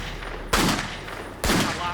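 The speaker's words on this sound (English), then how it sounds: "he took a .357 Magnum and started to fire into the woods" .357 Magnum revolver shots fired into woods outside a house, two loud, sharp reports about a second apart, each trailing off in a short echo over a steady background.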